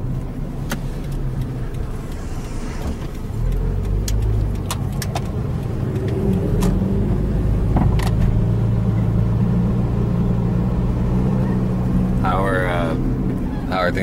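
A car cruises along a road with a steady low engine rumble and tire drone from inside the cabin, its loudness swelling slightly partway through, while people talk over it.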